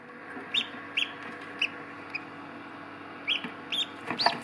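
Newly hatched ducklings peep in short high chirps, a scattered handful of sharp calls close by over a quiet background.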